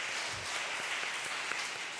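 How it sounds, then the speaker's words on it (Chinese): Church congregation at a Sunday worship service applauding to welcome a new member, a steady wash of hand claps sustained evenly from start to finish, moderately loud and fairly close with no voices standing out. "我们给她拍手"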